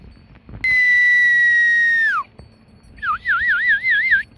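A person whistles to cattle drinking water at a village well, one long steady high whistle followed after a pause by a warbling, wavering whistle, loud and close.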